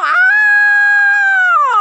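A hunting dog on a wild boar hunt in Padang Belimbing, Solok regency, lets out a single loud, close, sustained howl lasting under two seconds, with no one talking over it.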